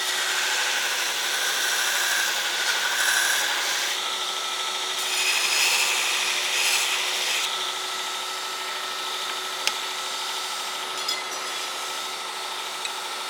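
A 72-inch Shop Master belt grinder with a Blaze belt trims a knife blank, giving a steady, fairly loud abrasive hiss and whir that swells and eases as the blade is worked, with a couple of sharp ticks near the end and no talk.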